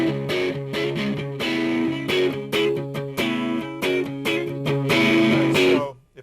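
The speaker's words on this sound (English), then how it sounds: "I'm going to crank up the gain here a little bit." Electric guitar played through a Fender Cyber-Twin amplifier with the gain raised for distortion, loud chugging rhythm-blues chords in short repeated bursts with brief gaps, ending with a sudden cutoff.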